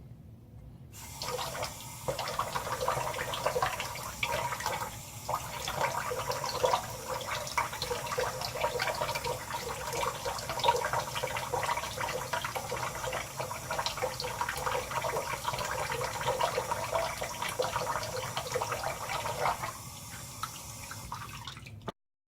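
A tap runs steadily while a razor is rinsed under it, a continuous broadband splashing hiss that holds at a fairly even, moderate level for about twenty seconds before cutting off.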